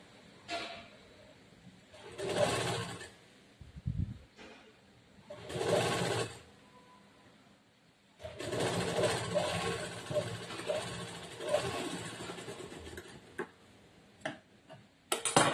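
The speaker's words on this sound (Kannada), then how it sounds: "ಇದನ್ನ ನೀಟಾಗಿ ಜೋಡಿಸ್ಕೊಂಡು ಸ್ಟಿಚ್ ಮಾಡ್ಬೇಕು." A sewing machine stitching a blouse runs in short bursts of rapid, even mechanical whirring separated by pauses and small handling clicks, close and moderately quiet.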